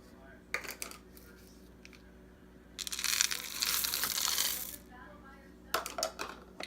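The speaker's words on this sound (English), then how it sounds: "I am literally just going to dump the chocolate chips in here." Chocolate chips poured into keto chocolate chip cookie dough in a bowl, a loud rattling, pattering rush lasting about two seconds, framed by brief clinks before and after, with no talk.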